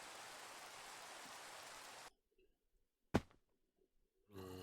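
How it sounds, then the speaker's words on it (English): Rain falling in the Minecraft overworld of a modpack game: a steady, loud hiss of rainfall fills the first two seconds, cuts out into near silence broken by a sharp thud, then the rain hiss returns at the end. "Always seems to be raining when I go back to the overworld now."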